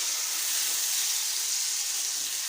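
Chicken frying in a pan for Sindhi biryani gives a steady, loud, broadband hiss and sizzle that stays even throughout with no talk.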